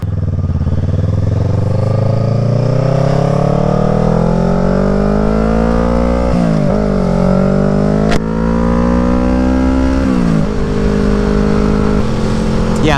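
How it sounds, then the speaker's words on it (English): A motorcycle fitted with a loud Delkevic exhaust roars close by, rising through several long revving pulls as it accelerates and shifts, its harsh engine note dominating throughout. "Yeah, this bike is really noisy."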